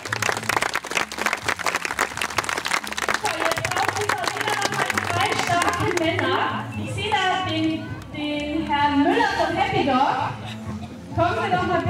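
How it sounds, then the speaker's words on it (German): Applause and clapping from the crowd at a German chicken show, loud and dense over music at first. It then thins into scattered claps and chatter while a voice keeps talking over it. "Applaus für Sexy"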